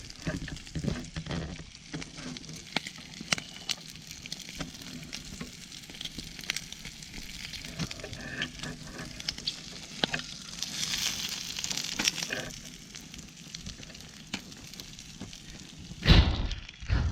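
Pork belly wrapped in banana leaf grills outdoors in a rice field, crackling and sizzling unevenly with scattered pops and small knocks, moderately close.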